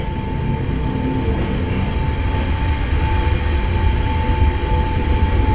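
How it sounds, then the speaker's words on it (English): An overground train in a London train-simulator game rumbles steadily with a low rolling drone and a constant tonal hum, loud and continuous throughout with no talk. "There's an overground train there."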